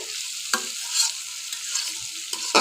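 Small river shrimp fry with banana flower and potatoes in a pan, a quiet steady sizzle broken by a few sharp scraping stirs of a spoon, close by with no voices.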